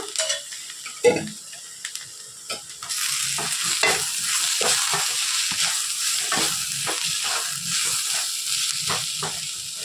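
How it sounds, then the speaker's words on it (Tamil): Grated carrot, potato and chopped coriander sautéing in oil in a pan: a few scrapes and a clink, then a continuous close sizzle broken by frequent spatula stirring strokes, with no talk. "எண்ணெயிலேயே ஒரு ரெண்டு நிமிஷம் நல்லா வதங்கட்டும்"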